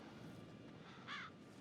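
In the Bendy video game, a single crow caw sounds briefly, mid-loud, over a quiet ambient background.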